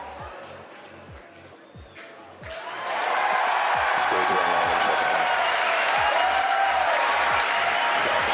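Crowd at a SpaceX Falcon 9 rocket landing, loud sustained cheering and applause rising suddenly after a few seconds and holding steady, under a narrator's voice.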